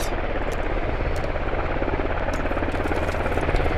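A helicopter in a military shooter video game gives a loud, steady rotor thump and engine whine that continues without a break, close and dominant with no talk over it.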